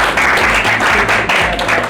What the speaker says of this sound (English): Let's clap for both of them